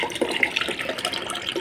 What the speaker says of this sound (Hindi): अंदर पंप लगाया हुआ, इससे पानी इसमें आ रहा है।